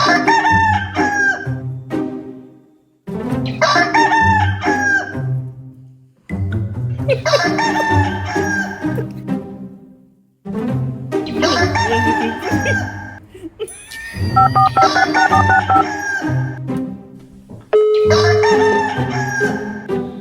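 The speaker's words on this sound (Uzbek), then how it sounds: "Nima qichqiryapti? Xo'roz?" A rooster crows repeatedly, six long loud calls spaced a few seconds apart, close by and with no talk over them.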